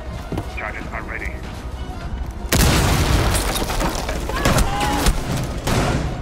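A loud breaching charge detonation in Rainbow Six Siege, a sudden heavy boom midway followed by sustained rumbling, gunfire crackle and shouting voices.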